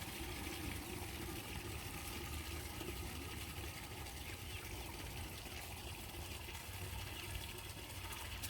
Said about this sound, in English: let's put some water in this bucket